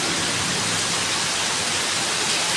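Rain falling outdoors, a dense, even hiss of broadband noise at constant loudness from start to end, with no speech.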